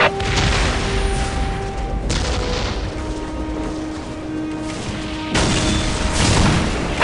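Whirlwind missile battery artillery tank firing in Warhammer 40,000: Dawn of War: heavy booming launches at the start, around two seconds and near five seconds, with a rumbling roar sustained between them, loud and close.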